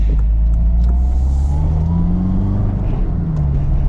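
Manual transmission car upshifting without rev matching, the engine note continuous and loud from inside the cabin, pitch sliding down at the shift and then slowly climbing again as the car labors back up in second gear.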